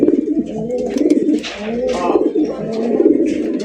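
Lahori fancy pigeons cooing in a cage, repeated throaty coos close by in overlapping rhythmic phrases.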